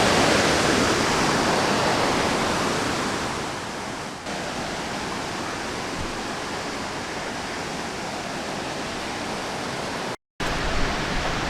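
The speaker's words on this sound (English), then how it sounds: "you can feel the rumbling. It's just pounding water" A waterfall roars with a dense, continuous rush of pounding water, loud and close, briefly cutting out near the end.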